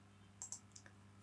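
Computer mouse clicks while working in Autodesk Inventor CAD software, a few quick close clicks: two sharper ones in a row followed by two fainter ones, over a steady low hum.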